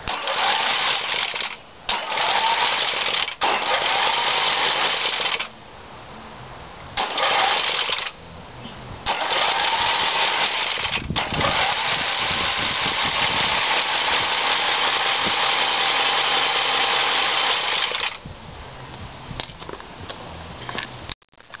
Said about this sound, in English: I just wanted to hit her with the starter here, show you what it looks like when she's flipping the pistons all up and down there.